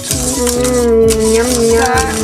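A spoon stirs a Brazilian truffle mixture in a saucepan, giving repeated scraping swishes in a steady circular rhythm, close and loud, over a continuous tonal background.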